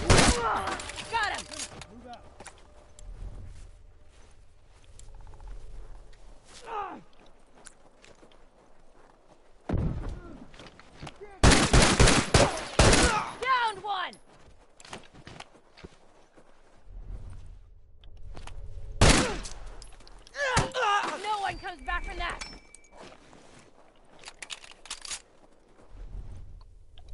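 Video game gunfire cracks out in loud clustered bursts separated by quieter stretches, mixed with footsteps and in-game voices shouting commands.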